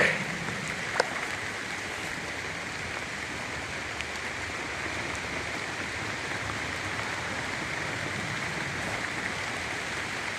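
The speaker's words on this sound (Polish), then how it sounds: "I znowu, kochani, zaczyna padać" Rain falls steadily on a garden, giving an even, continuous hiss that holds the same level throughout, with one faint drip or tap near the start and no voices.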